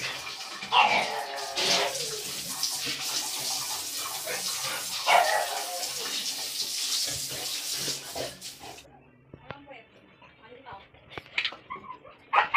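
Running water splashes steadily over a dog during a bath, with people talking nearby; the washing sound stops abruptly partway, leaving scattered small noises.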